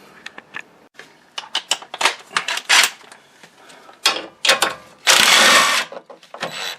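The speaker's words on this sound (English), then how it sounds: "And then we can just zip these off with the gun" An impact gun zips bolts off a Kia Sorento driveline in a garage, loud, close and harsh, with short rattling bursts, clanks and a longer sustained run near the end.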